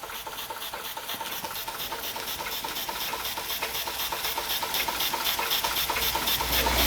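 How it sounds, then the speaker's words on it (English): A Weeden No. 900 model steam engine from around 1935 to 1940 runs under steam, giving a steady hiss with a fast, even mechanical chuffing and faint knocking that grows slightly louder throughout, with a small leak at the safety valve. "Weeden 900 under steam."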